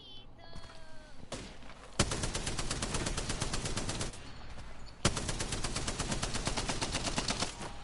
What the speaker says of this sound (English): M600 Spitfire is one of the worst spamming weapons ever.